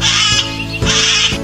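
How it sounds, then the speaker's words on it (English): A cockatoo call from a children's animal alphabet song: two loud, harsh, screechy bird cries, close and alone, with no talking. "Cockatoo."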